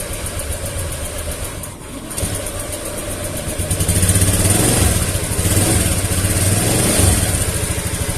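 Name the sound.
Honda Beat scooter engine running after starting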